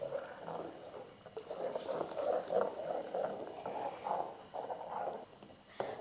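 Horse gram payasam boiling in a pot, a steady bubbling and simmering that rises and falls for several seconds without any voices over it.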